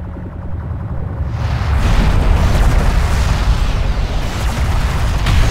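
Explosions and incoming fire pound a railgun in the desert strategy game Homeworld: Deserts of Kharak, a loud continuous barrage of booms and blasts that swells after the first second and stays dense to the end.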